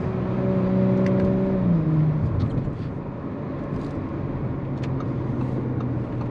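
A turbocharged car engine revs while its transmission warms up, a held tone dropping away after a couple of seconds into a rumbling, whirring idle with a few faint clicks.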